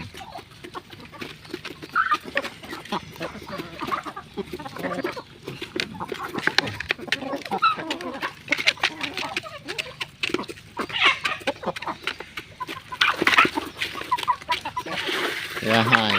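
Chickens cluck around a rural home where they are kept, mixed into a busy background with someone talking over them at a moderate distance.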